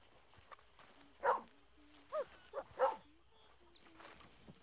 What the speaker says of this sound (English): Hey, look, we got a dog.